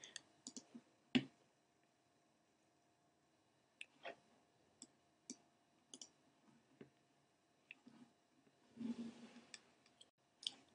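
Sparse computer mouse clicks in a quiet room, single sharp taps spaced irregularly, with a brief cluster of handling noise near the end.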